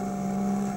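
Ride-on lawnmower engines drone as a pack of twelve racers sets off, a steady mid-pitched motor hum with a strong tonal whine, held evenly at moderate loudness with no talk over it.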